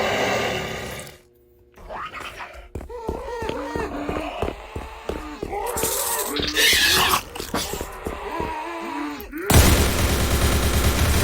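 Gunfire from shooting zombies in a Roblox game, a busy, irregular string of shots mixed with growls and other game noise. A voice can be heard over it, and a burst of hiss comes at the end.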